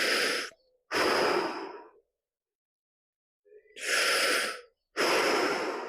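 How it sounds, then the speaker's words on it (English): Loud, close breaths drawn in and pushed out through the mouth during a fascia release stretch: four long airy rushes in two pairs, with silence in between. "in through the mouth, out through the mouth"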